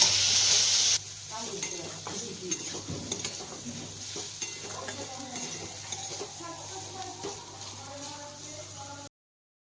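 Potato and carrot sizzle in a pan while being stirred for a spicy vegetable semolina, with a loud hissing burst at first, then a steady fry and repeated scraping stirs up close.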